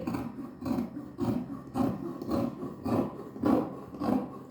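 Rhythmic rasping strokes of cutting through fabric while making a churidar, about seven even passes in under five seconds, close and fairly loud with no talking.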